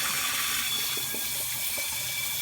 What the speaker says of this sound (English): So here we go. Spray feature.